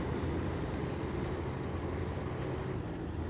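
A heavy truck engine in SnowRunner, a steady low droning rumble held at an even loudness throughout, close and continuous with no talk.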